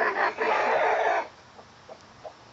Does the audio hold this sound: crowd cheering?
no